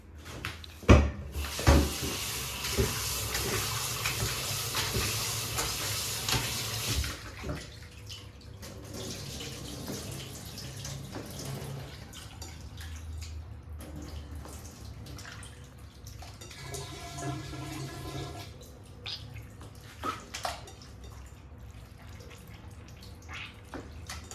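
Raw beef being rinsed under a running tap in a kitchen, a steady stream of water near and fairly loud at first, then softer splashing and handling noises with occasional clinks.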